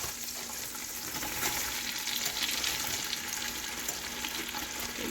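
Sausage grease sizzling and crackling steadily in a hot pan, a continuous fine frying hiss at moderate level with no talking.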